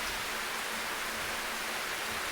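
Rain patters steadily in the video game Slow Damage, a dense, even hiss of falling drops that is continuous and moderately loud, with no voices over it.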